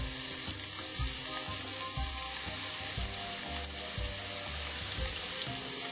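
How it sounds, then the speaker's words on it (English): Onion and garlic sauté in a little meatball oil, giving a steady close sizzle and crackle that runs without a break. "you're going to take your onion and garlic, and you're going to add it to about 2 teaspoons of the oil that you cook the balls in to saute them"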